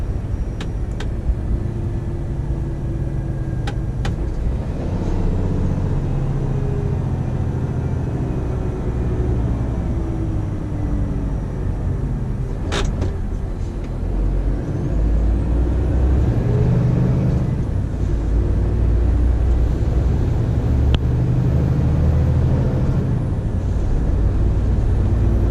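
A Scania G490 truck hauling a trailer with 15 tons of load climbs uphill under throttle, its deep diesel drone rumbling steadily close by with shifting low tones and occasional cab rattles, no talk.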